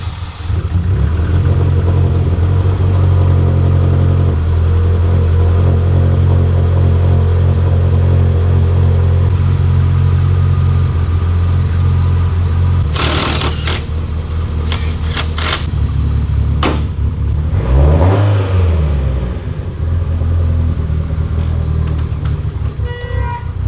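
A turbocharged car engine idling with a steady low drone, then a burst of clicks and a brief blip of revving before settling back, heard close and loud.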